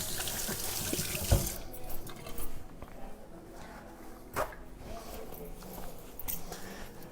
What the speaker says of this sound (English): Let me wash my hands a little bit. Keep washing those hands.